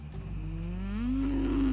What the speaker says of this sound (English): Dishonor on your cow!